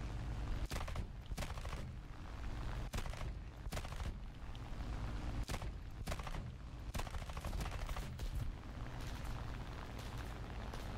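Rapid bursts of 37mm cannon fire from an aircraft in the War Thunder air combat game, loud repeated volleys in clustered rhythmic strings over a steady engine drone, with no voices.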